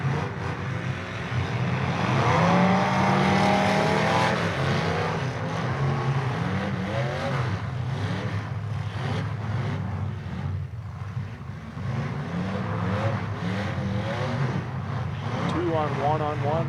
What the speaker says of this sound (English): We've only got one team out here on the track with still two cars running.